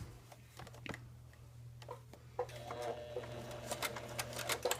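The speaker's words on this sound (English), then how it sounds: "you sew a little bit, you switch things around a little bit, you sew a little bit" A sewing machine stitches fabric for a Tilda doll in short, quiet bursts of rapid ticking and whirring, separated by pauses and soft handling sounds.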